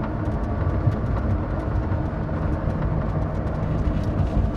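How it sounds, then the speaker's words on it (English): A 2003 Ferrari Enzo's engine runs steadily, a dense, continuous mechanical roar heard from inside the car, holding an even level throughout with no talking. "No, enjoy just listening to the motor."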